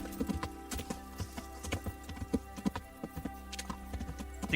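Horse hooves clip-clop in the video game Kingdom Come, an uneven run of close, soft thuds repeating several times a second across the whole clip, with no talk over it.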